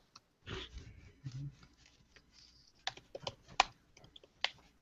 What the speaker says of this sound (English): I'll type that.